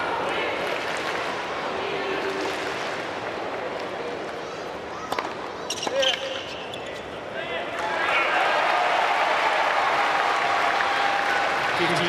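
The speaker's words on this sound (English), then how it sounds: "Those couple of points, the crowd just going off" Tennis crowd at the United Cup 2025 final between Taylor Fritz and Hubert Hurkacz, with a steady murmur, a couple of sharp ball or court sounds, then cheering and applause swelling loudly, with a commentator talking over it.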